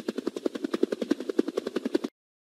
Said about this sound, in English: A helicopter flies using its rotating blades.